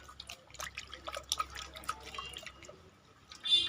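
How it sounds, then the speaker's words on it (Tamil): Hands squeeze and rinse pulp in a bowl of water to press out its milk, giving close, quiet, irregular drips, trickles and small splashes. "அலசி புழியணும். இந்த பால் பூரா அதில் இறங்கணும் தண்ணியில்."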